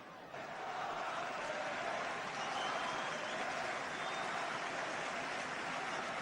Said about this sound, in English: Big round of applause for Dugan.